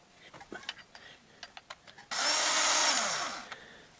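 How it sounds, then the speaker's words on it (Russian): A cordless screwdriver unscrewing short oil pump bolts on a Toyota 3S-FE, 4S-FE or 5S-FE engine, a loud sustained whirring burst after a few light clicks and metallic handling noises, up close. "Хоть болтики и не длинные, как бы откручиваются быстро, но шуруповертом приятнее и быстрее."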